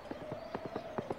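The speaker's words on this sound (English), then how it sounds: "The horse trot." Horse hooves trotting in a quick, uneven clip-clop rhythm, about a dozen close, fairly loud knocks over a faint steady hum, with no talk.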